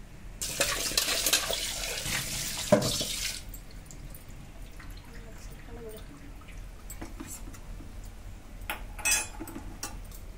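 Water from a tap runs over fish being rinsed in a kitchen, loudest in a splashing burst near the start, then softer trickles and drips with faint handling noises.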